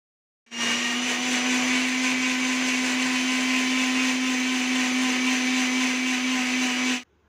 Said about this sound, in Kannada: ಅದಕ್ಕೆ ಸ್ವಲ್ಪ ನೀರನ್ನು ಸೇರಿಸ್ಕೊಂಡು ನುಣ್ಣಗೆ ಗ್ರೈಂಡ್ ಮಾಡಿಕೊಳ್ಳೋಣ